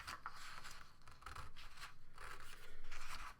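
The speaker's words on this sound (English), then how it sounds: "I'm just going to hold right onto that strip, that last strip, and cut that one" Scissors cut a strip of paper, making a few faint, close crisp snips and rasping slides at a steady rhythm.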